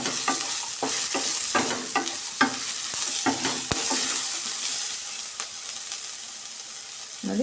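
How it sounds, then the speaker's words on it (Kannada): Ginger, cinnamon, cloves and cardamom frying in a pan for a bean tomato bath, with a steady close sizzle and repeated sharp scrapes and knocks of a spoon stirring through it. "ಎಲ್ಲ ಸೇರಿ ಈ ಥರ ಫ್ರೈ ಮಾಡ್ಕೊಳ್ಳೋಣ."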